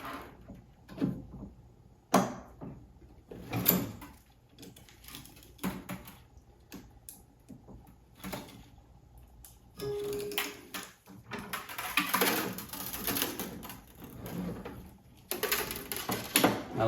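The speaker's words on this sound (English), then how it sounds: "I love how smooth this machine pulls, how quiet." Babolat Star 5 racket stringing machine tensioning string, with quiet mechanical whirring and soft clicks and knocks scattered through, a denser stretch of motor and handling noise later, close but low in level with no talking.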